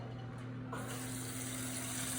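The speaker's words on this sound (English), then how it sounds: "I'm going to cover it with water." Water runs from a tap into a pot to cover dried pasta, a steady hissing stream that grows brighter as it starts filling, with a low hum underneath and no voices.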